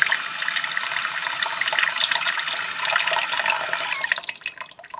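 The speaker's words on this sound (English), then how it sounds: "I fill my bowl up with water." Steady rushing water pours from a tap into a bowl in a sink, a continuous splashing stream that eases off near the end.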